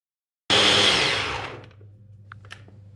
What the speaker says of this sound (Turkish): Ve şimdi robotumu çalıştıracağım.